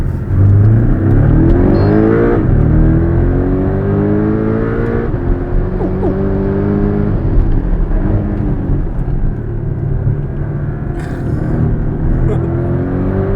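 A Porsche 718 Cayman GTS mid-engine sports car revs hard as it accelerates through several gear changes, its loud roar rising in pitch inside the cabin.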